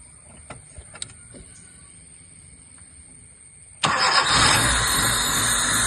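A Honda VTEC car with a throttle body fault sits quiet with a few faint clicks, then its engine cranks and catches abruptly, settling into a loud, steady idle nearby.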